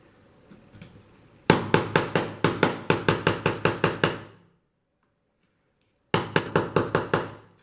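A steel chisel driven by a hammer into the beading of a stained glass window: a fast, loud run of about a dozen sharp knocks, a pause of silence, then another quick burst of strikes.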